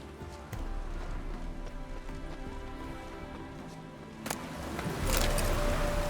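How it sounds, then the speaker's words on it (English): Rain in The Witcher 3: Wild Hunt falls steadily in a soft hiss with scattered drips, and a few brief knocks and a clop-like sound near the end. "No use doing any work in this rain."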